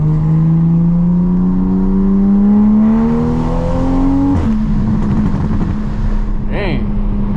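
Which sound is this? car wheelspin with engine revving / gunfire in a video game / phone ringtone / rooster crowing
car wheelspin with engine revving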